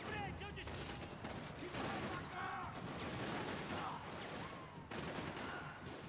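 Gunfire in the video game Max Payne 3, sustained shooting with a few distinct louder blasts over a busy, noisy game mix, with no talking.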